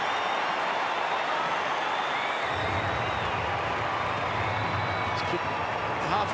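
St Kilda Saints fans at an AFL match against Gold Coast cheer and applaud after a goal. A broad, steady crowd roar fills the stadium under ongoing commentary.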